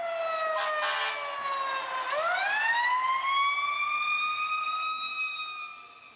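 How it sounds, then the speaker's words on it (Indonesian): Fire truck siren wailing loud and close, a steady tone that sweeps down then rises into a long sustained wail before fading at the end. "di sini ada truk pemadam kebakaran"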